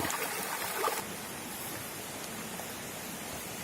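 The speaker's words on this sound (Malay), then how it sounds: "Hanya suara air." Continuous rushing water heard while approaching a waterfall in Sabang, Aceh, a steady broadband hiss at moderate distance with no talk.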